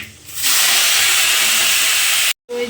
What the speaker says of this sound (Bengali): এবার কড়াতে দেখো তেল দিয়ে দিয়েছি, পাঁচফোড়ন দিয়ে দেবো